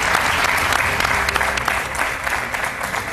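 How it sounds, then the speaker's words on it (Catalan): Audience applause for the Gandia firefighters' rescue team, steady dense clapping filling the whole stretch at an even level with no break. "així que un fort aplaudiment per a vosaltres."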